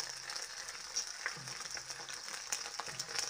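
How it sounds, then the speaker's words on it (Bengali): Sliced okra frying in a pan over a very low flame, a faint, steady soft sizzle with occasional light stirring clicks, quiet and without voices. "আঁচটা একেবারে কমিয়ে দিয়ে 4 থেকে 5 মিনিট ধরে ভেন্ডিগুলো ভেজে নিয়েছি"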